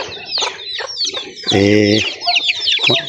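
Chickens on a banana farm cluck and squawk close by in quick, uneven bursts, with one longer, louder call in the middle and busy clucking all around it.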